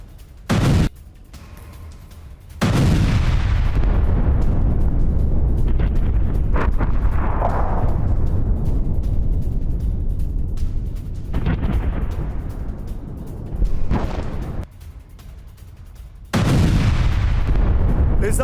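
Artillery fire during a strike on a Russian command post in Kherson: loud, sustained rumbling blasts and booms fill most of the stretch, with abrupt cuts to quieter gaps, heavy and continuous rather than isolated shots.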